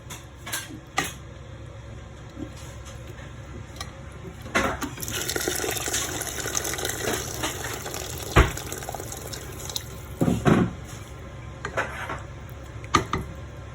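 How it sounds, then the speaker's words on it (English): Water is poured from a container into a pot of smoked jollof rice, a steady filling stream from about the middle, with light clinks of pots and utensils before and after. "I need to add water to it now"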